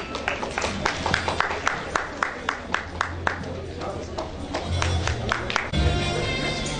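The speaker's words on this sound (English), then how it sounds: "give him a loud round of applause" Audience at a state medical officers' association conference clapping, a loose run of distinct handclaps spreading into a broader round of applause, heard alongside an announcer's amplified voice.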